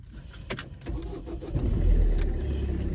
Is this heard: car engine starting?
yes